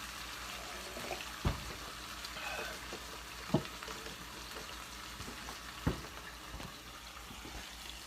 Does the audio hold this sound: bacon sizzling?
yes